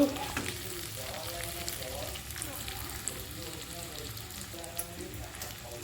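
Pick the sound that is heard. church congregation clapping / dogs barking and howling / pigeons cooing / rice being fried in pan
rice being fried in pan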